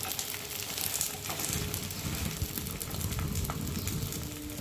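Egg gola roti fries in oil in a pan over a gas flame, producing a continuous close, dense sizzle with crackling pops and occasional stirring scrapes, with no one talking.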